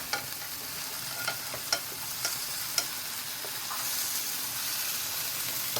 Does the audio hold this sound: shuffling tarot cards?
no